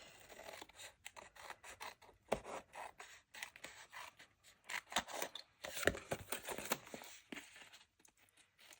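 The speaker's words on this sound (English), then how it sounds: "just give this a trim around there" Scissors snip around paper scraps in a quiet room, giving a close, irregular run of crisp cuts and rustles, some sharper and louder than others, with short pauses between them.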